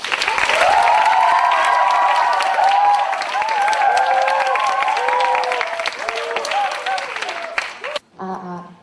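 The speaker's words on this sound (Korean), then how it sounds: "큰 박수로 맞이해 주시기 바랍니다" Big applause greets the first team at the 2012 university student presentation contest, dense clapping from a large crowd filling the room for about eight seconds before cutting off, with a voice speaking briefly after.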